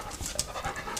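A dog pants in quick, breathy rhythmic puffs close by in a garage where a Mach 1 Fastback is being worked on.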